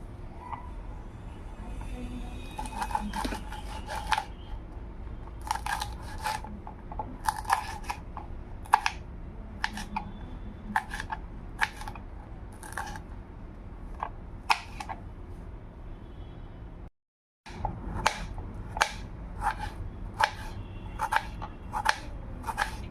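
Green chillies and half a potato sliced finely with a knife on a board, giving a steady series of crisp, close taps and crunches that pause briefly near the end before resuming.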